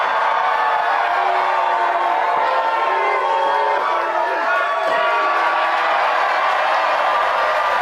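A wrestling crowd at Hardywood roars, cheers and applauds after a pinfall at an RVA Pro Wrestling show, a dense, loud, sustained wall of crowd noise with chanting voices throughout.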